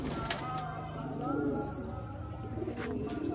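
Pigeons coo on a rooftop at dusk, soft repeated throaty calls running under the sound of someone talking.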